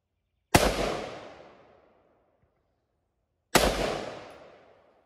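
Two sharp, loud gunshots from an M4 carbine in a zombie video game, spaced about three seconds apart, each with a long fading echo tail, with no talking.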